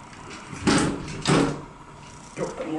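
An old, dirty elevator door slides shut in a few rumbling, scraping bursts, each a second-long whoosh with a thud, fairly close and loud with brief gaps between.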